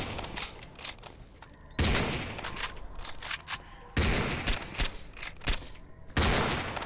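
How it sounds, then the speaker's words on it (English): Gunfire in the STALKER Anomaly video game, loud bursts of rapid automatic shots in three separate volleys with sharp cracks and brief gaps between them, no talking. "What are you shooting at?"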